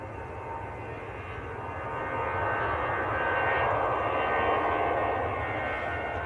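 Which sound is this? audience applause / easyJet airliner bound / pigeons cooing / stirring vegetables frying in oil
easyJet airliner bound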